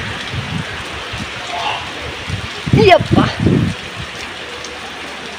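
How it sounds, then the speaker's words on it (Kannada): Heavy rain pours steadily on a road during a sudden downpour, a dense continuous hiss under a brief exclamation from a nearby voice. "ಇಲ್ಲಿ ಮಳೆ ರಮ್ಮನಾಗ ಬಂದ್ಬಿಡ್ತೈತಿ."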